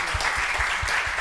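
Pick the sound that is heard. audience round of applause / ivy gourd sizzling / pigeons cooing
audience round of applause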